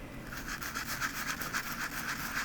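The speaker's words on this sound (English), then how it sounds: "I'll place my sanding pad down on my work surface" A fine silver metal clay pendant is rubbed on a sanding pad laid flat on a work surface, a soft, quiet, steady scratchy scrubbing in a quick circular rhythm.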